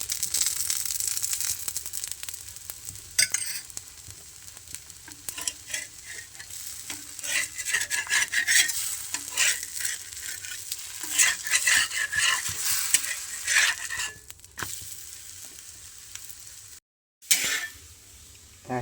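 Jowar and wheat flour balchi frying in oil in a pan, a steady close sizzle with scraping and stirring of a utensil against the pan, one brief dropout near the end.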